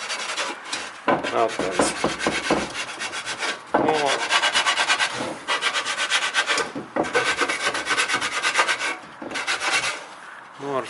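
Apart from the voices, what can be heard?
scratching Toyota Camry automatic transmission cleaner magnet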